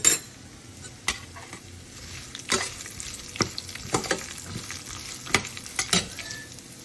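Turmeric and asafoetida fry in hot oil for pulihora, a soft sizzle broken by sharp scrapes and clicks of a spoon stirring against the pan.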